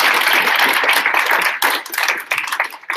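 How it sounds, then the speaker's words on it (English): Audience applause at a service celebration honoring fellows, a loud dense burst of clapping from many hands that thins and tapers unevenly toward the end. "maybe we'll give them a quick round of applause"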